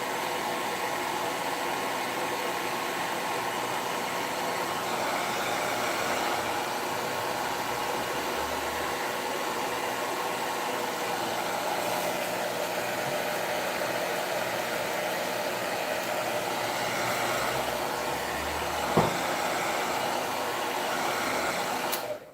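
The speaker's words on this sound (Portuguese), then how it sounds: "Deixa eu aumentar o secador aqui rapidinho, nós vamos só para ir secando." A hair dryer blows continuously at close range over a decorative coffee-painted picture, a steady whooshing roar that holds for the whole stretch, with one brief knock partway through.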